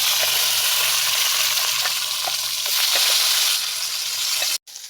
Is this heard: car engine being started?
no